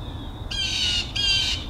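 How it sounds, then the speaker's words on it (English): Two loud, harsh bird squawks, close by, one after another with a brief gap, heard outdoors near a Firebird car. "That bird thinks this thing sucks."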